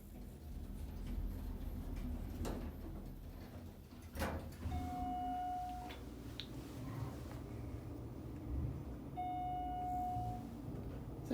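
A Westinghouse elevator in a professional building: slow doors slide with a low rumbling hum and soft thuds, while two short electronic chimes ring out, one near the middle and one near the end.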